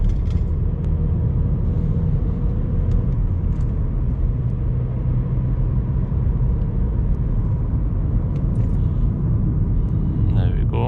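A 2013 Vauxhall Astra 1.4 SRi drives along narrow country roads, its steady low engine and road rumble droning continuously from inside the cabin at an even level.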